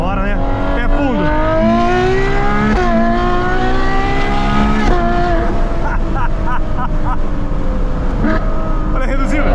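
Ferrari F12 tdf V12 engine revving hard at full throttle, rising pitch sweeps through gear changes with a downshift, loud and continuous, with people talking over it.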